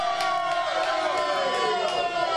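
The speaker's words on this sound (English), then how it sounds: "There's so much energy from Gonzaga fans right now. And take a look at this. There's a cheering for the victory." Gonzaga fans pack a tavern, cheering and whooping in a loud, continuous roar of crowd noise that never drops away.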